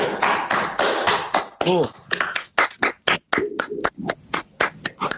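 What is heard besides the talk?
hand clapping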